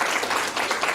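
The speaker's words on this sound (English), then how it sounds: "Let us give her another round of applause." Audience at a stakeholders' conference for the Day of the African Child giving a short round of applause, a brief, moderately loud patter of clapping hands.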